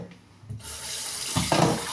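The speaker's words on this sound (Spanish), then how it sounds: "y las pasaremos por el grifo." Water from a kitchen tap runs steadily over soaked pinto beans in a strainer, a continuous close hiss and splash that swells and shifts as the beans are rinsed, with no talking.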